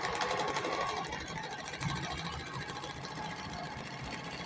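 A sewing machine runs steadily as it stitches fabric with contrasting thread along a sleeve cuff seam, a dense, continuous mechanical whir held close by and alone, with no voices.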